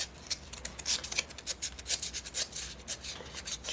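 Someone scrubs rust and grime off the race of a ball bearing, making rapid, uneven rasping and rubbing strokes close up with no talking.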